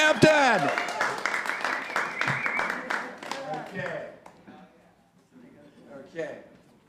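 Cabaret audience applause, a scattered round of clapping that fades over several seconds while a voice speaks over it, followed by quieter talk.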